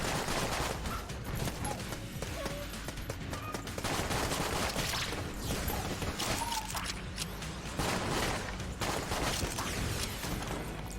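Dense, nonstop bullet fire in Enter the Gungeon, rapid shots and impacts layered into a loud, busy barrage over game music.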